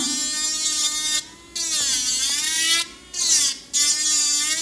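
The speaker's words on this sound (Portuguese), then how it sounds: "aqui a broca tende a escapar" An electric nail drill files a polygel nail, its high whine wavering in pitch as the bit presses and slips, cutting out briefly three times between bursts of steady buzzing, close and loud with no speech.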